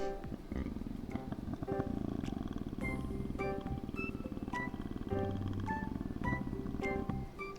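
A person's voice imitates a big cat's low rumble, a continuous throaty growl with a steady pulsing texture, close and fairly loud.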